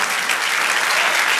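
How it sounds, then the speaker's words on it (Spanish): A church congregation applauds steadily during a sermon, a dense, continuous wash of many hands clapping at close range with no speech over it. "Denle aplauso al Señor."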